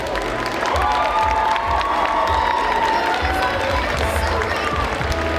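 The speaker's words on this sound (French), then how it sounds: "Donc on a applaudi très très très très fort." A large audience cheers and applauds loudly at a cosplay contest awards ceremony at Necronomi'con 2023, a dense, sustained roar of clapping and shouting voices lasting throughout.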